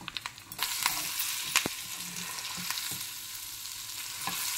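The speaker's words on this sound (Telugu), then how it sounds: "వేగుతుంది తాలింపు." Dried red chillies, curry leaves and asafoetida sizzle in a tempering for red chilli gongura pickle, with a constant close frying hiss broken by sharp crackling pops.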